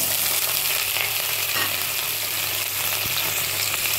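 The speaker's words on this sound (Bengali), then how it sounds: "আমি একটুখানি নিয়ে নিয়েছি কালো জিরে, এটা দিয়ে দিলাম ফোড়নে, আর তার সাথে এই উচ্ছে আর কুমড়োটা ঢেলে দিলাম" Bitter gourd and pumpkin frying in hot oil with nigella seeds, giving a loud, constant, close-up sizzle with no talk.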